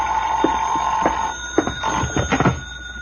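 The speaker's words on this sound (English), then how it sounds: "I went back to my room and the phone was ringing." A telephone in a room rings in an old action radio drama, with a sustained bell-like tone followed by a few sharp rattling bursts at a steady loudness.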